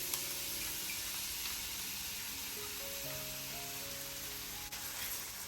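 Onion frying in olive oil in a pan, giving a steady, soft continuous sizzle that stays even throughout, close but quiet, with no talking.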